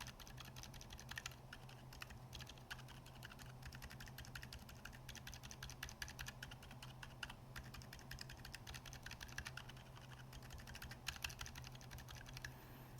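Fast, continuous typing on a mechanical keyboard fitted with Gazzew U4 silent tactile switches, soft muted keystrokes pattering at close range, faint and even under a low steady hum.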